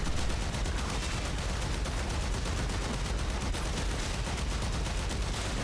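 Continuous dense shotgun gunfire from Warframe, the Heart of Deimos area, rapid blasts blending into a steady loud barrage with no pause.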